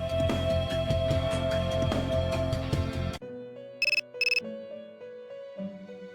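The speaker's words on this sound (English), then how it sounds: "Your cell phone is ringing." A cell phone ringtone in the video game Persona 3 rings out clearly in two short electronic bursts, set against steady background music from the game.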